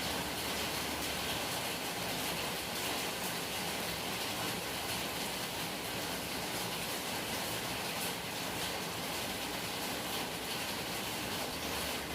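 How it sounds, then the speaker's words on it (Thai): Steady, dense hiss of rain falling continuously, an even wash of noise with no pauses and no talking. "จะได้ยินแต่เสียงฝนนะคะ"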